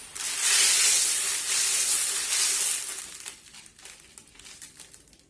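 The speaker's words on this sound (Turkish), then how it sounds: "Sonra üzerine lobaç döküyoruz." Lye is poured over stove grates set in a deep container, producing a loud crinkling hiss that fades into scattered fizzing and crackles.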